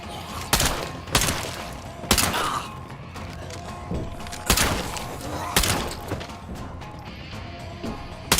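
Gunshots in State of Decay 2 from a weapon with slight recoil, firing as sharp separate cracks at an uneven pace, close and loud, with faint game noise between the shots.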